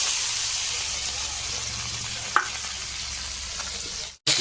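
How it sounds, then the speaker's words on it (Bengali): Prawns and small tengra fish frying in hot oil in a wok, a loud, steady, close sizzle with occasional spatula knocks before a sudden cut near the end. "আর এই মাছগুলো ফার্স্টে ভেজে নেব, টেংরা মাছ আর যে মাছ চুনোচানা কিছু মাছ আছে,"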